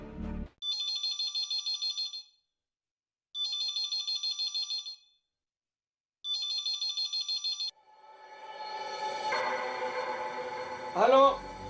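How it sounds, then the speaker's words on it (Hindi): A telephone rings in three repeated electronic trilling bursts separated by short silences, followed by swelling background music and a brief voice at the end. "घंटी बज रही है"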